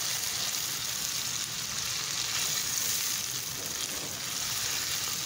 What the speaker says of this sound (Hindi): और फिर इसे भूनेंगे अच्छी तरह।